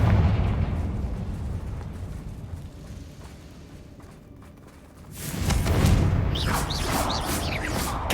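Confringo fire-spell explosions in Hogwarts Legacy during a fight with Ranrock's loyalists: a loud, roaring blast that slowly fades, then a second burst of booming, crackling explosions a few seconds later.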